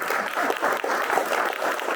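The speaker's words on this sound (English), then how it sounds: "Can we give him a round of applause?" Steady audience applause at a candidate forum fills the whole stretch, dense clapping from many hands at a consistent, fairly loud level with no talking.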